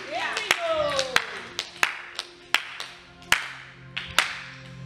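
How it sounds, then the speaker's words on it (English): A church congregation claps in a slow, steady beat, sharp separate claps about every second, with faint voices and tones in the background. "Clap your hands for Jesus."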